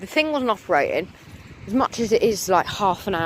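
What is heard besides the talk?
None of the usual background noises is heard.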